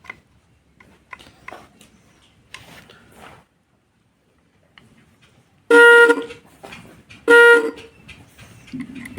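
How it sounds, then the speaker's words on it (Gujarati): An automatic bird-scaring device in a cumin field sounds its horn in two loud, close blasts about a second apart, following a stretch of quiet talking. "પ્રોપર હોરન વાગવો જોઈએ"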